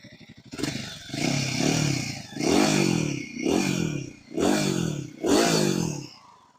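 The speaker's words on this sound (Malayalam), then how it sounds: "ഇനി ഞാൻ എക്സോസ്റ്റ് ഒന്ന് കേൾപ്പിച്ച് തരാം." A Royal Enfield Guerrilla 450 motorcycle idling in neutral, then blipped through several throttle revs. Five rising, falling exhaust surges come in a row, close and loud, with no voices over them.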